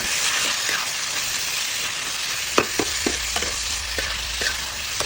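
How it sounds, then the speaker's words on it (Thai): Sliced cardamom shoots stir-fried in butter in a pan sizzle and fry, with scraping stirs and a few soft clinks of a utensil, steady hiss throughout, close by. "จากนั้นเนยก็จะใส่หนอกกระวานที่เราหั่นนะคะ ใส่ลงไปผัดเลยค่ะ"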